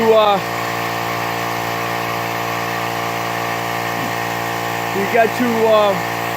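A small air compressor runs steadily, filling a tank to 80 psi for reseating a car tire, with a constant motor hum and harmonic whine throughout and someone talking briefly near the start and end.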